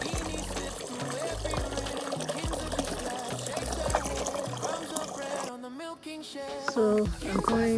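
Homemade liquid fertilizer diluted with water pours and gurgles steadily into a container, close by, with a person talking over it, ending in a few splashy trickles.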